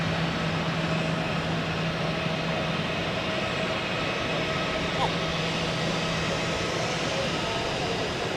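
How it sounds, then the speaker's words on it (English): A Pegasus Airbus A320neo pushes back from Dock B at Zurich Airport, a constant loud engine and ground hum with a faint steady tone and a brief click midway. "Meanwhile, we have a Pegasus A320 Neo pushing back from Dock B, departing to Antalya in southern Turkey."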